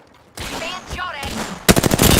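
Rapid video-game gunfire breaks out in a dense, loud burst of automatic shots near the end, after a quieter stretch with a voice speaking.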